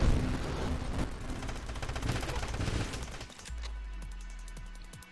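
Turrets in the space shooter game Nova Drift fire in a dense, rapid volley of overlapping shots and blasts. A steady low hum takes over near the end while the clipped shots keep ticking.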